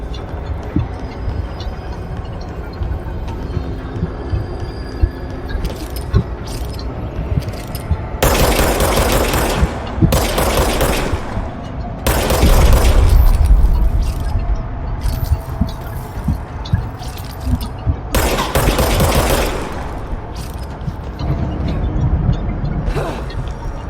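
Gunfire from a weapon in a video game, loud bursts of rapid shots in several clusters separated by quieter stretches, with someone talking between them.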